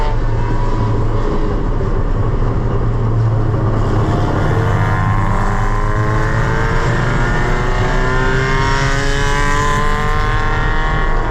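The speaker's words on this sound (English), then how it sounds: "Cars are moving quicker on this restart." Loud engines rev and climb in pitch as several race cars accelerate together at a restart at Lime Rock, a constant roaring drone.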